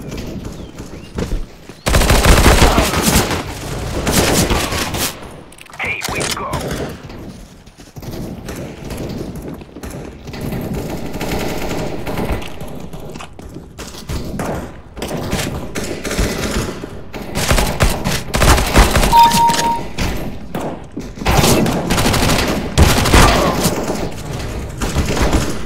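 Rapid bursts of gunfire from the video game CS:GO, including pistol shots in arms race play, crackle loudly in quick clusters across the stretch, with brief lulls between volleys and no talking.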